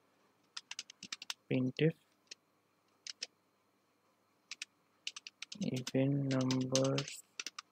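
Keyboard typing in bursts of clicks while entering C code for an even/odd number program, with someone speaking in Bengali at two points between the keystroke runs.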